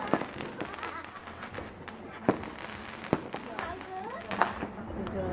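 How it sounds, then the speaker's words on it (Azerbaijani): New Year fireworks and firecrackers going off nearby in a town street at midnight, several sharp loud bangs and cracks at irregular intervals over crowd noise, with people talking in between. "Yaxınlıqdan bir neçə fişəng."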